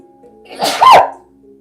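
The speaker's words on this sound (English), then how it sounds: "I am going to sneeze, okay?" A single loud, close sneeze, a short rising intake followed by a sharp explosive burst, in an otherwise quiet room.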